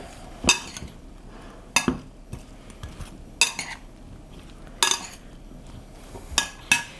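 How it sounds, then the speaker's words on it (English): A spoon clatters against a bowl while tomato salad with onion gets mixed, making a handful of sharp clinks at irregular intervals over a quiet scraping background. "I'm going to give it a good mix."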